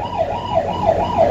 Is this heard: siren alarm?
yes